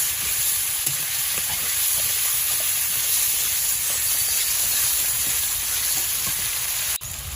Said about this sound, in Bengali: এবার খুব ভালো করে মশলাটাকে কষাবো।